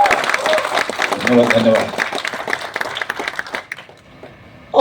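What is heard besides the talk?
audience applause at a film promotion event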